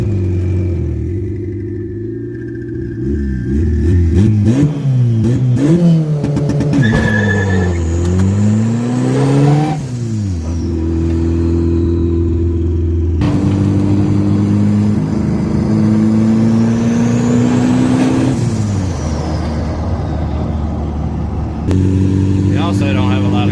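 Honda Civic engine from the 1992-2000 generation revving loud and close, its pitch climbing and falling through repeated throttle blips and longer pulls under a steady rumble, with a voice talking over it.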